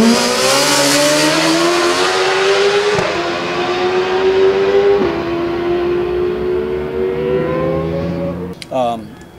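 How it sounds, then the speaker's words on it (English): A BMW S1000RR sport motorcycle screams at full throttle down a straight, its high-revving engine note climbing loud and close, dropping sharply at two quick upshifts, then fading into brief mechanical clatter at the end. "it's exactly the way BMW sounds down the straights"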